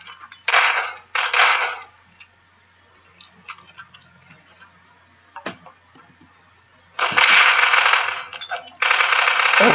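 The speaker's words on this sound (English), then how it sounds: "we got gunshots everywhere" Gunfire in the online shooter game Prop Hunt: loud bursts of rapid automatic fire at the start and again near the end, with scattered quieter clicks and shots in between.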